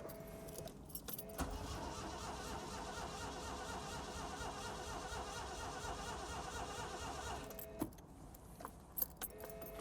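A Maserati's engine cranks steadily for several seconds without catching, then the starter cuts out into quiet.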